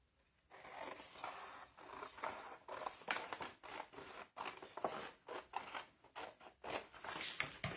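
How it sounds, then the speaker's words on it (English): Scissors cut paper for a junk journal in quiet, close, rhythmic snips and rustles that come in quick succession. "I'm just going to cut along there"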